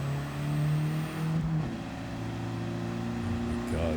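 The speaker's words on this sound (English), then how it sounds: "This is a high revving, or a high RPM, I guess, turbocharger, which gives you the most amount of power." Turbocharged car revving hard and accelerating in Gran Turismo 7, a steady high-pitched engine drone with a shifting tone partway through, close and loud, with a voice talking over it.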